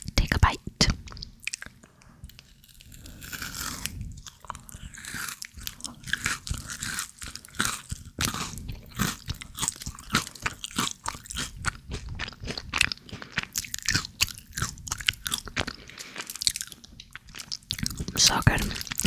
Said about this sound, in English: Let's take a bite.